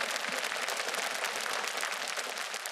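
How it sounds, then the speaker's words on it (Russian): A studio audience gives a steady round of applause, dense continuous clapping at moderate level with no voices over it. "Аплодисменты Илье."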